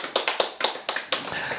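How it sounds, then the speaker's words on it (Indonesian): A church congregation claps briefly, a short run of sharp, evenly spaced hand claps, close and distinct, quickly fading out. "Tepuk tangan buat firman Tuhan."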